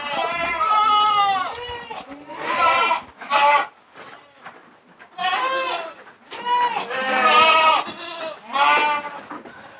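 Goats on a goat farm bleat loudly and repeatedly in wavering, overlapping calls, close by, with a brief spoken word among them.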